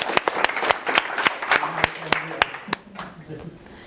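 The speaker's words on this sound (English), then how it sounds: "Applaus for Selim." Live audience applause for a participant named Selim at a music masterclass, with sharp individual claps from a small group close by, thinning out toward the end.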